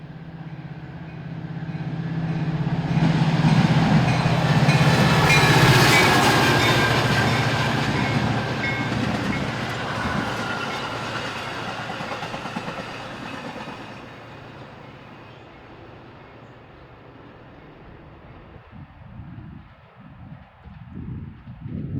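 A Metra commuter train rumbles past nearby, a loud drawn-out roar of wheels and rails that peaks early and then slowly fades into the distance.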